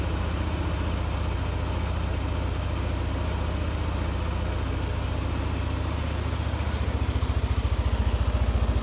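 A Yamaha Nmax 180cc scooter engine with a ceramic 180cc kit idles after a cold start, a steady, loud, close-up low chugging that runs throughout with no talking.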